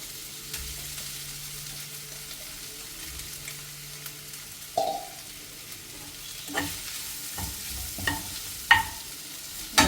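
Sweet corn fries in a pan, with a low quiet sizzle and occasional stirring scrapes and clicks that grow more frequent and louder toward the end, heard close with no voices.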